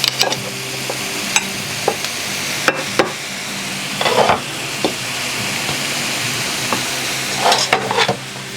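Steak strips from cubed steak sizzle in a pan with a Worcestershire butter mixture, a steady close frying hiss broken by occasional clinks and scrapes of stirring, with no talk.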